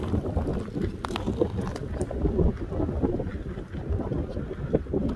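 Strong, steady wind buffets the microphone on an icy winter nature walk, a continuous low roar with gusty surges throughout.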